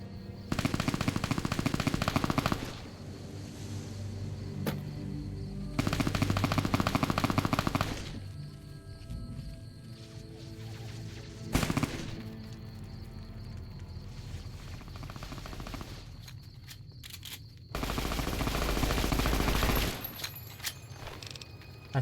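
Sustained bursts of automatic gunfire from an enemy in Fallout New Vegas, loud rattling volleys broken by short pauses and single sharp shots, with no talking.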